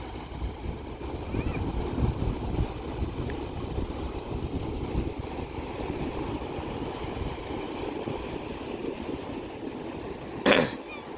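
Sea waves wash onto the beach at Agno under a steady, broad roar of surf and wind, with no distinct breaks; a brief sharp knock comes near the end.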